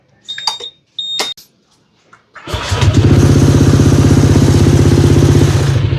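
A scooter engine is cold-started just after an oil change: a few clicks and clunks come first, then the motor catches and settles into a loud, steady, close idle.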